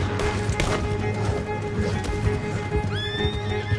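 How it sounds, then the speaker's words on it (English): Hoofbeats of a galloping horse in Red Dead Redemption 2 drum steadily through a busy game soundscape, with a loud neigh and whinny breaking out near the end over a constant low rumble. "Keep riding, Morgan"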